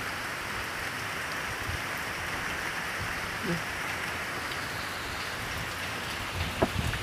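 Rain falls steadily on an open field during traditional eel fishing, a dense continuous hiss of drops with a few louder close patters.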